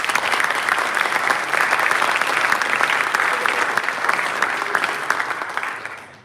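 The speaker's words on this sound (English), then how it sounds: "one last round of applause for you all and your coaches" Sustained applause from an audience honouring competing teams and their coaches at a tool challenge event, a dense steady clapping wash that stays loud before thinning slightly at the very end.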